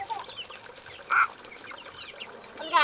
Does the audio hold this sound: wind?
no